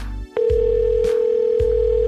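A telephone call being placed: a steady continuous tone with a few soft clicks and blips over it, loud and close, with no voices.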